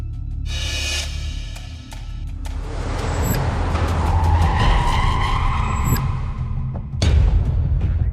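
Cars racing at high speed on a village road, engines roaring loudly and steadily while tires squeal and skid in long smeared screeches, with a sharp surge near the end.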